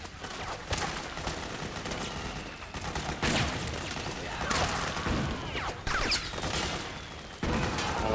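Gunfire in the video game Metal Gear Solid 4 comes as repeated bursts of automatic shots, moderately loud and fairly close, spaced unevenly over several seconds.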